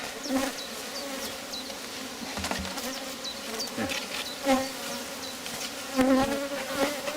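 A dense swarm of honeybees buzzes continuously up close at an open Rose hive, with individual bees droning past and occasional faint knocks and rustles.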